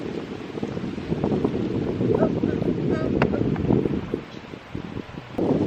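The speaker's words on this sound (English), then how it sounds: "I hope it's not too windy for you guys." Wind on an open beach buffets the microphone with a steady, loud low roar, swelling and easing slightly across the clip, with faint voices briefly underneath.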